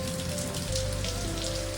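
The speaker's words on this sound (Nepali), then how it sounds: "पानी परेर चाहिँ यस्तो छ होइन अवस्था" Steady rain pours at a dam where people had been bathing, a dense even hiss of drops close by with a faint underlying hum, continuous throughout.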